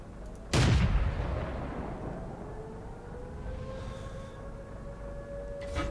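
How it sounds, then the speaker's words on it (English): Artillery fire in the tank battle game World of Tanks, a single sudden loud blast followed by a long rumbling decay with a rising engine whine beneath. "Oh, he got hit by the artillery."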